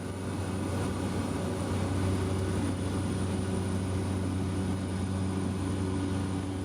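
Cabin of a small passenger aircraft with autopilot in flight over Dar es Salaam, Tanzania, a steady, loud, droning engine and airflow hum with a low-pitched tone, constant throughout with no voices.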